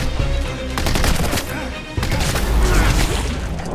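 An explosion sound effect in an action film, heard as a dense, loud roar of blasts and crackling debris, with a sharp fresh burst midway and heavy rumbling throughout, mixed with music and effects.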